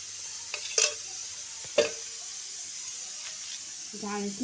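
Green chilies fry in hot oil with a faint, steady sizzle, broken by a couple of sharp pops early on; a brief voice-like tone enters near the end.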